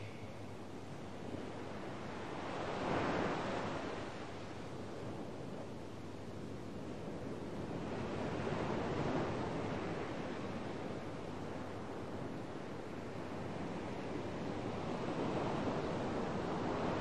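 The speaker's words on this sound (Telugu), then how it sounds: "సముద్రం ఒడ్డున వెన్నెల్లో వచ్చే ప్రతి అల" Sea waves wash onto the shore in a steady roar, swelling in broad surges every few seconds, with wind blowing across the microphone and no voices.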